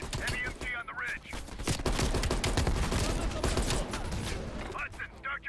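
Heavy machine gun fire from a ridge in Call of Duty: Cold War, sustained bursts of rapid shots layered with battle noise and voices talking over the din.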